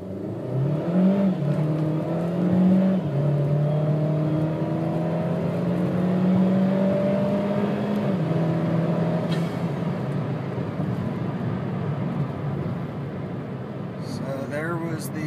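A 2013 Chevy Sonic RS automatic with its stock exhaust accelerates toward 70, its engine note climbing steadily through the gears with brief pitch drops at each shift, heard from inside the car with a low droning road hum.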